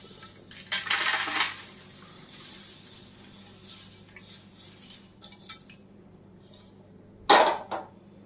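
Cooled crispy thin poha chivda tipped from a pan into a cooled pot, giving a few rattling, clinking pours in short bursts, one near the start and a sharper one near the end, with quiet gaps between.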